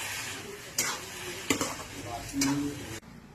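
A spoon stirs a coconut mixture in a pan after milk goes in, with soft sizzling under scraping strokes and a few sharp clinks of metal against the pan.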